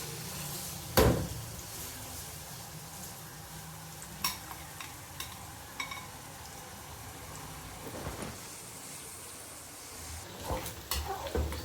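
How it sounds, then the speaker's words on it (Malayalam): Hot oil sizzles steadily as prawns fry, with occasional clinks and a sharp clatter from a utensil stirring the pan. "എണ്ണ ചൂടായിട്ടുണ്ട് നമുക്ക് അതിലേക്ക് ചെമ്മീൻ ഇട്ട് കൊടുക്കാം രണ്ട് പ്രാവശ്യമായിട്ട് ഇട്ട് വറുത്തെടുക്കാം"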